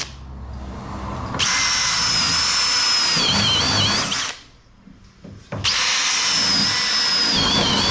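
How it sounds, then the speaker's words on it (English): A power drill bores through a metal van door in two loud, sustained runs with a high motor whine and grinding bit, separated by a short pause before the drill starts again. "That's how easy it is to drill a bloody van door."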